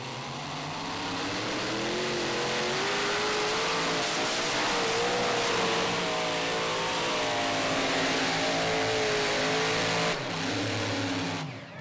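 A super modified pulling tractor making around 10,000 horsepower roars and revs on a pulling track at a Pro Pulling League event in Saluda, South Carolina, its loud, sustained engine note rising and wavering before cutting off abruptly near the end.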